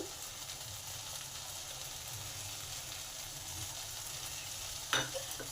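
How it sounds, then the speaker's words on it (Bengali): Cashews and raisins are stirred into a papaya curry in a pan, with a soft, even sizzle running steadily throughout and one brief clink of a utensil near the end. "এই কাজু কিশমিশটাকে ভালো করে মিশে নেব নামানোর আগে"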